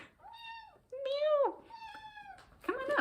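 A pet cat named Eleanor meows several times indoors, drawn-out tonal calls up close, and a voice says something between them; the meows cannot be told apart from a person imitating one.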